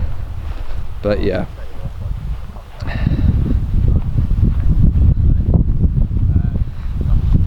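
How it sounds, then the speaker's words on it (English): Wind blows across the Lough Erne golf course, buffeting the microphone with a constant low rumble throughout, with a brief spoken phrase near the start. "There is a little bit of wind behind today"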